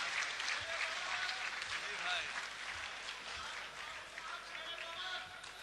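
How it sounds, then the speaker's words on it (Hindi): An audience at a mushaira breaks into applause to welcome a poet, a sustained wash of many hands clapping at moderate loudness, with crowd noise mixed in. "डॉक्टर राहत इंदौरी से मैं दरखास्त कर रहा हूं कि तालियों से इस्तकबाल किए"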